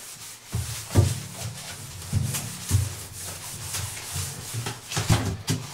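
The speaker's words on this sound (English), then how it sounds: "Just kind of rub it around, just get everything wet first with the suds, soap." A sponge with soap suds rubs around a bathtub in close, repeated back-and-forth strokes that make a soft, steady scrubbing and swishing sound.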